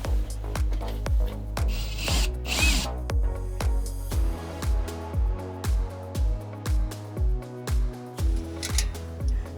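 Power driver driving screws for garland mounts into a wooden board, a rhythmic series of short near whirring bursts, about a dozen in a row.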